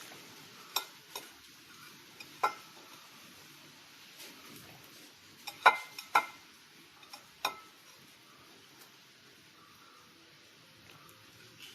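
Snake gourd and dry prawn thoran with coconut, onion and green chili is stirred in a pan, giving scattered light scrapes and taps of a spoon against the pan over a faint sizzle, fairly quiet and irregular.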